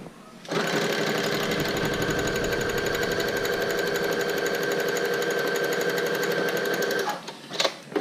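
An electric sewing machine stitches a seatbelt-webbing guitar strap in one steady, loud, rapid run lasting several seconds, then stops, followed by a few small handling clicks.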